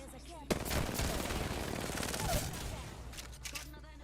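Rapid automatic gunfire from a PC video game, loud and dense bursts crackling continuously for several seconds with a sharp onset, a player's voice faintly mixed in.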